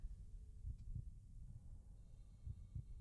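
A heartbeat in the video game CrossCode: low, soft double thumps that recur at an irregular pace under a faint hum, quiet and muffled, with no talking.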